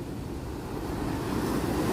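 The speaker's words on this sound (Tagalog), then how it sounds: "Mataas din ang alon, kahit papaano malakas din, no?" Ocean surf from the South China Sea rolls in steadily at a beachfront in San Juan, La Union, a dense roar of breaking waves mixed with wind, building slightly louder.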